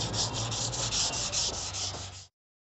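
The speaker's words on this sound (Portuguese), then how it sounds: "Até no último pedacinho você tem que ir com a lixa." Hand sanding of cured polyester body filler on a car panel with sandpaper, brisk rhythmic back-and-forth rasping strokes, close and steady for about two seconds before stopping abruptly, with no voices.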